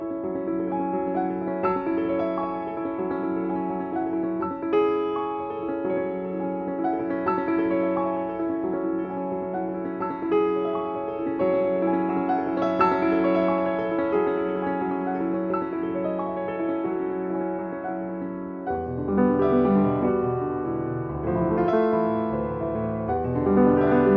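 A grand piano plays sustained chords and melodic lines, resonant and full, with a shift to a different passage near the end.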